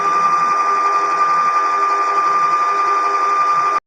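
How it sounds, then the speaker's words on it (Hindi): An electric mixer beats cupcake batter in a bowl, giving a loud, steady motor whine with a sharp constant tone that runs evenly for a few seconds before it cuts off abruptly. "अब इसे मैं बीट करती हूँ अच्छी तरह फिर"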